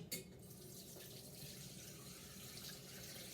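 Chicken soup is poured through a strainer into a pot in a kitchen sink, giving a faint, steady liquid rush and splash throughout, with no talking.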